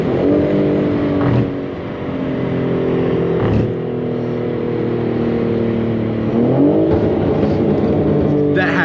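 BMW G80 M3 with a full titanium catless exhaust revs loud and close, the engine's harmonic roar climbing and dipping through several pulls, with excited voices talking over it.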